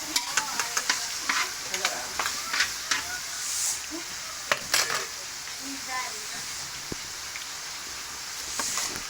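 Pasta sauce stirred and sizzling in a frying pan, with a utensil scraping and clinking against the metal in irregular bursts over a steady hiss of frying, close and moderately loud.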